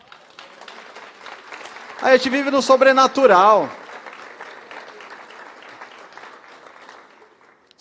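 A church congregation breaks into loud applause in a burst of about two seconds, rising over a preacher's amplified voice and then fading back beneath continued preaching in Portuguese.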